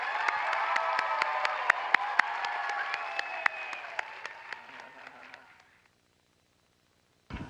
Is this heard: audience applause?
yes